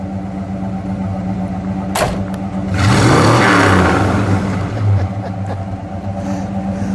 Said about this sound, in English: go ahead, give it a rev. Do that one more time.